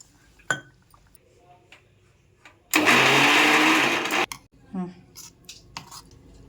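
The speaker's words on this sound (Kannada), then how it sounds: "ನೆನೆಸಿಟ್ಟಿರೋ ಕಡಲೆಪುರಿ ನೀರನ್ನೆಲ್ಲ ಹಿಂಡ್ಕೊಂಡು ಮಿಕ್ಸರ್ ಗ್ರೈಂಡರ್ಗೆ ಹಾಕ್ಕೊಂಡು ರುಬ್ಕೋಬೇಕು." A mixer grinder grinds soaked, squeezed puffed rice with a little water into dosa batter in one loud, steady whir lasting just over a second. Clinks of utensils and talk come before and after it.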